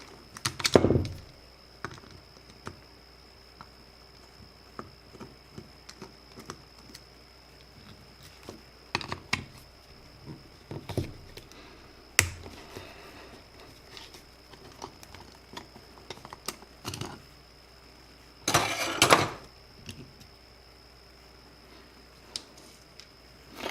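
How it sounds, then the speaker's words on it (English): Small flathead screwdriver backing two jets out of a Yamaha SUV 1200 carburetor during a rebuild, heard as faint, sparse metallic clicks and light taps scattered across a quiet workbench, with a few slightly louder scraping bursts. "then we're going to remove our two jets, just a small flathead"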